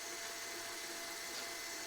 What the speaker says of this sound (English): I've been using the heck out of this Ryobi screwdriver since I got it.